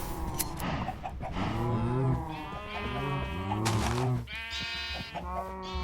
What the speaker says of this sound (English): Do they make higher pitched baby sheep noises now that they're lightnified?